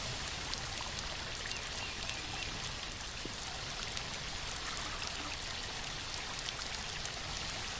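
Waterfall in an action film, heard as a steady, full roar of rushing and splashing water that holds at constant loudness throughout, with no voices over it.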